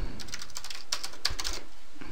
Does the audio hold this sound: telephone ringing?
no